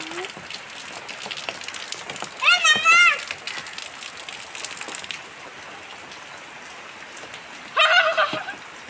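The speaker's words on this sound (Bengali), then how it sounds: "হঠাৎ করে বৃষ্টি শুরু হয়ে গেছে।" Sudden rain falls with a soft, steady patter in the background while fowl gobble loudly twice, and faint voices are heard.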